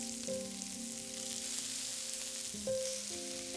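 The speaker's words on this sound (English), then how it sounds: "Press to sear." Mushrooms and shallots sear in healthy fat in a pan, a steady close sizzle running throughout with faint tonal hum in the background and a slight swell near the end.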